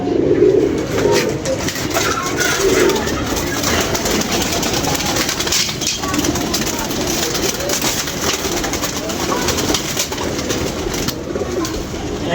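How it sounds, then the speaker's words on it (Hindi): Many pigeons coo in soft overlapping murmurs close by, with people talking and general outdoor bustle mixed in. "कबूतर है"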